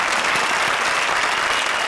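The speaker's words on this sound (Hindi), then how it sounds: "जोरदार तालियां निगार और राजा के लिए।" A studio audience at a televised comedy show gives a comedy pair on stage loud, sustained applause, a thick, even roar of clapping with no voices on top.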